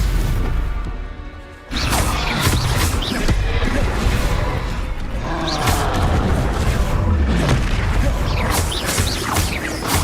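Stupefy spell casts amid a rapid magical duel in the video game Hogwarts Legacy, a dense run of loud whooshes, crashes and impact booms packed closely together after a brief quieter lead-in.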